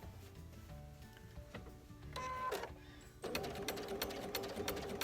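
A Brother sewing machine fitted with a walking foot stitches a churn dash quilt, a rapid mechanical chatter that starts with faint, scattered ticks, surges briefly, then settles into a loud, steady run close by.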